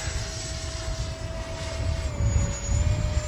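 A Freewing A-6 Intruder RC jet flies overhead on a windy day, its steady electric ducted-fan whine holding a high tone that dips slightly in pitch as it passes, with a rumbling wind-buffeted roar underneath.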